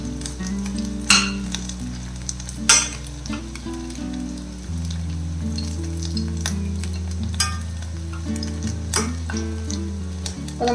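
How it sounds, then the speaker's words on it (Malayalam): Batter-coated boiled eggs frying in hot oil for egg manchurian, a loud continuous sizzle with crackling bursts and occasional stirring clatter throughout. "ഫ്രൈ ആയി കിട്ടും."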